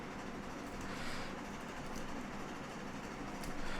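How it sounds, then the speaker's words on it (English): A runaway train in the video game Railroads Online rumbles steadily along at a distance, a constant low mechanical roar with faint clacks and squeals, fairly quiet and without voices. "My train's running away."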